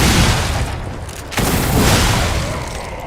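A cannon fires in the video game Lies of P: a loud, booming blast with a rumbling tail, then a second heavy burst about halfway through, no speech.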